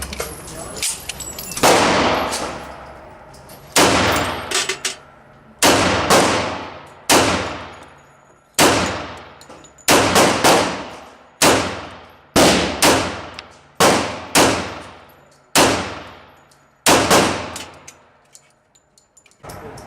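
Pistol shots from a Remington R1 1911, loud and close, in quick single reports and pairs with short gaps, around twenty sharp bangs each ringing off briefly.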